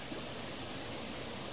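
A waterfall basin on a solo forest hike sends out a constant, even rush of falling water, a fairly faint wash of noise with no voices over it.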